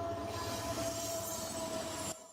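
A train rolls steadily past on tracks near houses, a continuous rumbling wash with a faint squealing whine, cutting off abruptly at the end.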